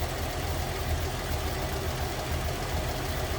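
A 1961 Chevrolet Apache pickup engine with a new intake, head gasket, plugs and points idles with an even, steady rumble, close and continuous, with no talk.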